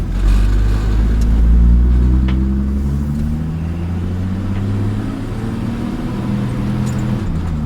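A 1958 GMC Apache Fleetside pickup with an automatic gearbox is held in a low gear on a UK road. Its engine drones loud and steady with a slight rise and fall in pitch and no talk over it.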